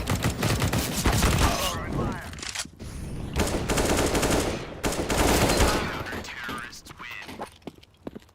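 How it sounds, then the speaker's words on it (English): Bursts of video game gunfire crackle in rapid, dense volleys through most of the stretch, loud and close, with a few brief pauses between them. "Stop shooting me."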